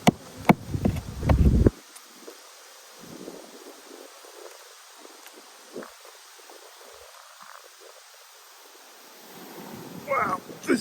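Bees hum faintly around an open hive during a beekeeper's winter preparation, a soft steady drone under occasional handling noises and brief knocks, with louder bumps at the start.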